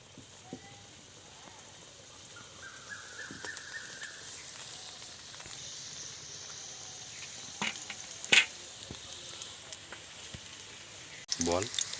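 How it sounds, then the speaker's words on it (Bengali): Pieces of bread fry in a pan over a stove, giving a soft, continuous sizzle with scattered crackles and a few louder pops and clatters near the end. "এবার আমি একটু লাল লাল করে ভেজে নেব"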